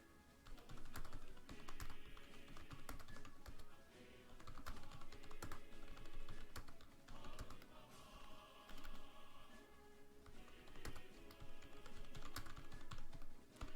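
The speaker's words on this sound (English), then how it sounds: "I'm gonna be typing for a second" Rapid typing on a computer keyboard, close and clear, with dense clicking keystrokes in bursts and brief pauses and no speech over it.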